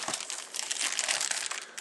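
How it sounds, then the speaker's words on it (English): Thin plastic bags wrapped around cheap computer speakers crinkle and rustle continuously and close up as they are handled during unpacking, with no voices. "they're basically just each in a little plastic bag"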